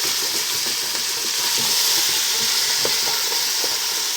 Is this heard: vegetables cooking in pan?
yes